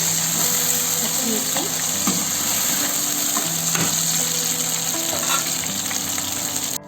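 Green chillies and curry leaves sizzle in hot oil in a pan, a steady crackling fry with occasional stirring clatters, and a voice talks faintly underneath.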